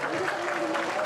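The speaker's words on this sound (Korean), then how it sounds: "자리에서 일어나서 박수를 치고 있습니다" Clapping from party leaders at an election exit poll announcement, steady and dense for the whole moment, with a news reporter's voice faintly running underneath.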